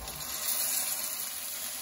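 Two tins of rinsed chickpeas hit a hot pan with a steady close sizzle and frying crackle that holds evenly for a couple of seconds, with a brief clatter near the end.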